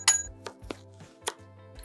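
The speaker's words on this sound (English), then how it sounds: "there are so many sounds of chopping of vegetables in this particular clip" A kitchen knife chopping vegetables, used as a sound effect, gives a handful of sharp, irregularly spaced knocks against a cutting board over a faint low hum, close and fairly quiet, with no voices.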